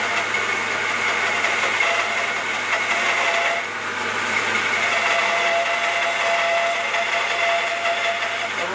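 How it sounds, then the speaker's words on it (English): A BS350 bandsaw runs steadily while a blade feeds gently into a cut, giving a continuous whirring drone with a faint high whine throughout and a brief dip midway. "Again, start my bandsaw. When you start off, nice and gently to get into the cut."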